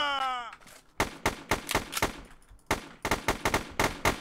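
Pistol shots in the video game A Well Balanced Breakfast ring out in quick irregular bursts of sharp loud cracks after a short electronic tone at the start, with brief gaps between volleys.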